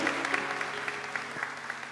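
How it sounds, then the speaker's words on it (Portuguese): A church congregation gives a sustained round of applause at a baptism service, dense steady clapping from many hands filling the room, with a faint low hum beneath it. "A igreja aqui central está dando neste momento uma salva de palmas para a glória de Jesus"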